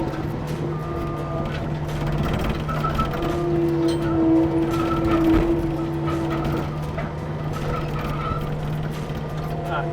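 A Skid Pro HD3 skid steer brush cutter back-drags through brush, its engine and hydraulic drone steady and loud throughout with a sustained whine and rumble, no talk over it.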